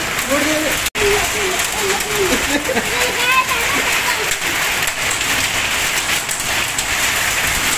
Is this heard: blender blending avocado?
no